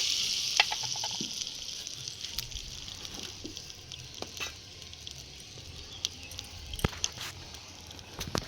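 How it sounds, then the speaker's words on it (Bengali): Okra pieces frying lightly in hot oil in a home kitchen for a prawn sour curry, a steady close sizzle with scattered crackles and a few utensil taps, no voices. "ঢেঁড়সগুলো দিয়ে ভেজে নেব একটু অল্প করে"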